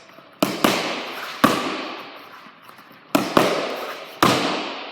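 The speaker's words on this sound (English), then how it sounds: "So it's real simple jab cross, round kick, like this." Jab, cross and round kick landing on handheld focus mitts during kickboxing pad work: five sharp, loud smacks in uneven pairs, each snapping hard and then ringing off briefly, with no talk.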